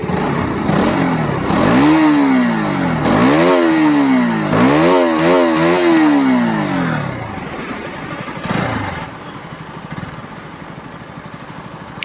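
An RC 200 BS7 motorcycle revs loudly up close in several rising and falling bursts, its exhaust climbing and dropping in pitch before settling into a quieter idle.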